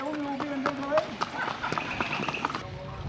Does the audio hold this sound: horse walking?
yes